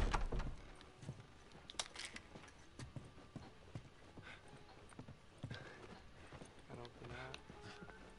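Horse hooves clop quietly in The Last of Us, an irregular series of soft, fairly distant footfalls amid faint ambient game sound, with some speech present.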